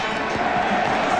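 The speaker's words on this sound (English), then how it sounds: "So the crowd getting a little testy here" Stadium crowd at a 1995 soccer match between the United States and Colombia, a dense, steady roar of voices that turns restless and testy, with no single voice standing out.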